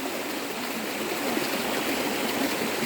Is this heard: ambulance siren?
no